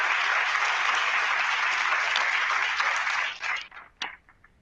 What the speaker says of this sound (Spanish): Aplausote, por favor, a Gaby